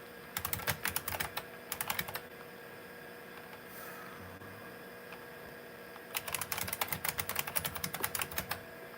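Bursts of rapid clicking from a computer keyboard as a DOS command is typed on a retro PC, two clusters of quick keystrokes separated by a short pause, close and clear over a steady machine hum.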